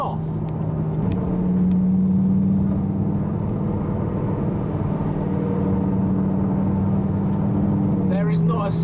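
A supercar engine rumbles and idles steadily nearby, with a rising rev near the end as the cars drive off; voices talk faintly underneath.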